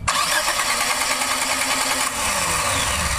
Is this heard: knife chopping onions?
no